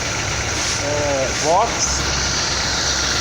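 A Chevrolet Prisma 1.4 engine runs with an abnormal noise, giving a loud, steady, close mechanical hum throughout, briefly overlaid by a voice.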